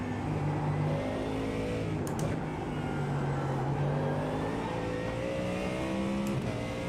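A high-revving V8 race car engine roars steadily throughout, its pitch rising and falling with gear changes, loud and close as if from inside the car.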